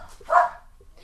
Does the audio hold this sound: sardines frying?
no